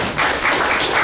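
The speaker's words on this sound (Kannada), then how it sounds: "ಒಂದು ಜೋರ ಚಪ್ಪಾಳೆ ಹೇಳಿ ಪ್ಲೀಸ್" An audience at the inauguration of the Appu Cup shuttle badminton league claps loudly, a short, dense roar of applause lasting about a second and already underway.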